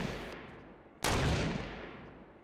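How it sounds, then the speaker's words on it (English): Gunfire in the video game Fortnite: a sudden loud burst of shots hits about one second in, sustained rattling fire that slowly fades over the next second and a half, with no talking. "Someone open fire? Yeah, they're firing at me, I think."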